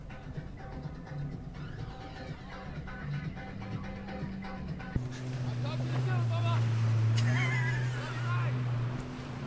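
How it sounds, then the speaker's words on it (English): A motorboat passes near anchored boats on the Atlantic, its engine drone swelling louder partway through and holding steady under wind noise and lapping water. "I don't know if you can hear that boat behind me"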